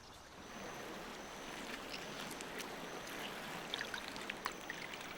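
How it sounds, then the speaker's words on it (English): The Rusizi River running fast with a strong current near Lake Tanganyika, a steady broadband rush of flowing water heard close and continuous, with faint splashes and bird calls on top and no speech. "That water flows, eh?"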